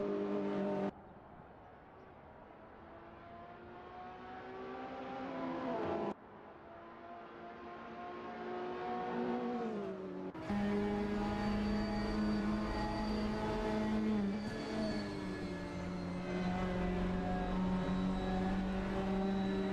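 Racing cars with loud engines, a Ford and an Audi, lapping Road Atlanta in a touring car series, drone and rise in pitch as they accelerate, with a sharp shift after about ten seconds to a louder, nearer roar that holds steady.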